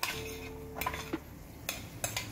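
A spoon stirs lasagna sauce with tomato paste in a cooking pot, giving quiet, scattered metallic clinks and scrapes against a soft background hiss.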